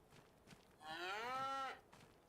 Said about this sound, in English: Guess I should check on the cattle.